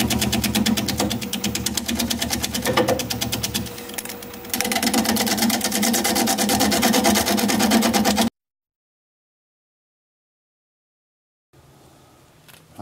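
A wood lathe spins a bowl blank while a tool flattens its bottom, giving a loud, dense, buzzing rattle that runs steadily for about eight seconds, then cuts to silence before a faint low hum returns.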